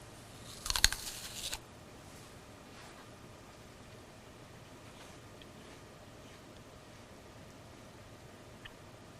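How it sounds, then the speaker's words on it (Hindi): A single brief burst of crunching, as from biting into an apple, sounds near and clear at the start, then gives way to a long stretch of quiet room hiss with no talking. "चलो एप्पल खाओ।"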